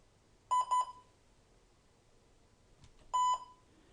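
An emulated Heathkit H8 vintage computer beeps in short high tones: a quick pair of beeps, a pause with a faint click, then one longer beep.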